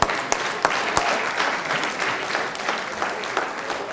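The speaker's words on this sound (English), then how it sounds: "Stand up and applaud." Enthusiastic applause from a large audience at an awards ceremony in BMA House, dense and steady clapping filling the room without pause.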